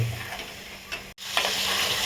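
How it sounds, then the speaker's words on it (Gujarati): Crushed onion, garlic, ginger and green chilli paste frying in oil, a close continuous sizzle broken by a brief cut, then stirring scrapes as the hiss resumes. "આ ડુંગળી, લસણ, આદુ, લીલા મરચા બધું ચડી ગયું છે."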